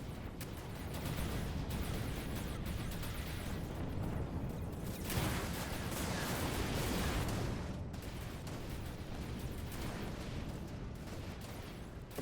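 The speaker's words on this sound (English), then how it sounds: "A lot of explosions going on here at the mass relay." A dense, continuous barrage of booming explosions and blasts from a video game fleet battle at a mass relay rolls on for the whole stretch, loud and unbroken, like a chaotic battle.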